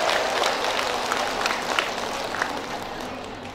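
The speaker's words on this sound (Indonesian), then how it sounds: "tepuk tangan buat semua" An audience of women at a community rebana group gathering claps in a dense, steady, crackling burst that runs the whole moment without pause.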